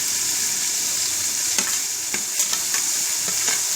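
Tomatoes and green chilies fry in a pan of onions browned for savory vermicelli, a steady loud sizzle with intermittent stirring scrapes and clicks, no voices.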